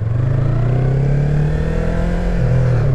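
Twin-cylinder Yamaha MT-03 motorcycle engine, 2020 model on stock exhaust, running steadily with a low, loud rumble and continuous droning tone, close by with no talking.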